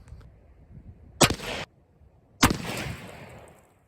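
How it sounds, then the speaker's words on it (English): Two rifle shots, M855 and .308, fired outdoors across a bathtub: two sharp, very loud cracks about a second apart, each followed by a short rumbling echo, with no talking. "I did 2 shots with that M855, and then I did 308 to follow up"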